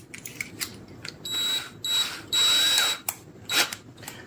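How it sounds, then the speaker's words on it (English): A power drill drilling through a hole, its motor whining in several close, loud pulses of differing length, with short clicks and handling noise between the runs. "get a drill bit that's big enough to go through that hole"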